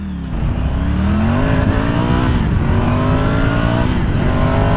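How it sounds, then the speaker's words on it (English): A Triumph Tiger 900 Rally motorcycle's exhaust rasps loudly and close up as it accelerates, engine pitch climbing through the gears in smooth rising sweeps. "Lovely rasp from that exhaust. A lovely rasp as you accelerate up."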